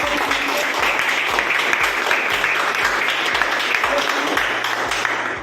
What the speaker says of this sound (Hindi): तो एक बार जोरदार ताली हो जाए हमारे एमडी मैडम के लिए।